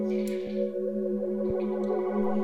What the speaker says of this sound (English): I'm going to be adding a flanger.